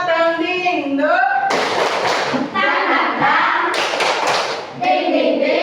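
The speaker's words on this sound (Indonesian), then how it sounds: "Tepuk semangat dang ding dong." A third-grade class stands and claps the rhythmic 'tepuk semangat' cheer with their teacher, with loud bursts of clapping mixed into sung and chanted voices.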